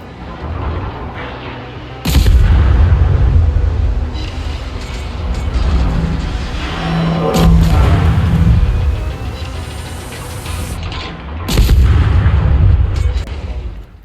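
Naval guns of a German Tier 2 destroyer, the V-25, firing at an enemy destroyer in a naval combat video game, with loud heavy booms at intervals over a steady engine and water rumble.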